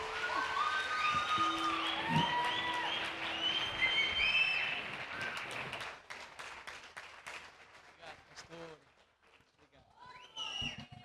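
A church congregation at a worship service applauds for Jesus, scattered clapping mixed with singing and exclamations that fades to sparse claps and voices, then rises again briefly near the end.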